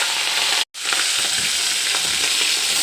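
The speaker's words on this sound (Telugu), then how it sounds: "నూనె మరిగిన తర్వాత పచ్చిమిర్చి" Green chilies fry in hot oil for a bitter gourd and coconut dish, a loud, close sizzle with stirring that stops for a moment and then goes on steadily, with no one speaking.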